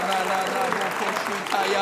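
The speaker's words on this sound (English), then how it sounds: "give a hand clap to God" Church congregation at a Sunday service clapping their hands together, a dense, steady patter of claps mixed with raised voices and background music.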